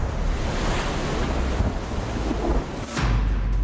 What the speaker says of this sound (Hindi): तेज हवाओं के साथ समुद्र में ऊंची लहरें